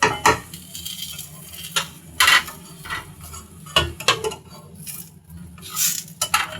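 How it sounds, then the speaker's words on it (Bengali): Rotis fry in a pan with irregular clanks and scrapes of a utensil against the metal, close and intermittent bursts over a faint background sizzle. "রুটিগুলো আমি ভেজে নিচ্ছি।"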